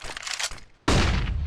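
A flashbang grenade detonates in the game CS:GO with a sudden loud, broadband blast that follows a stretch of quieter gameplay noise and stays loud and sustained to the end.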